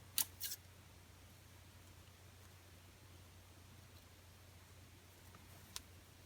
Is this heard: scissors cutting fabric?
yes